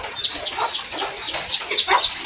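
Chickens cluck in a quick repeating series of short, bright calls, close and fairly loud throughout.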